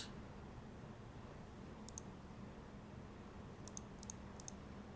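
A few faint keyboard key clicks sound while a password is typed: a quick pair, then a short scattered burst, isolated and quiet in an otherwise still room.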